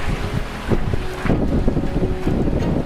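Steady wind and sea rush around a sailboat running downwind in rough seas off the British Virgin Islands, a loud, continuous roar with faint surges of water and no talking.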